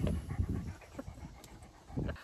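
Dogs pant close by in quick, breathy bursts near a camera tripod in a woodland cabin, soft and irregular with a brief louder burst toward the end.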